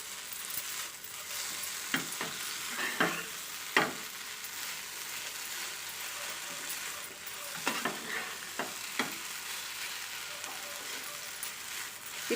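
Mango rice mixture sizzles and is stirred in a pan, with a soft continuous fry hiss broken by a few scraping spatula clicks and knocks against the metal, close and fairly quiet.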